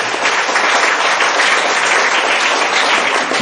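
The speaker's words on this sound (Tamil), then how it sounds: "அந்த டீச்சர்ஸ்க்கு நாங்க எல்லாரும் சேர்ந்து ஒரு பெரிய கைத்தட்டல் ஒன்று கொடுப்போம்." A large audience bursts into sustained, dense applause for teachers at a school gathering, loud and continuous throughout with no speech over it.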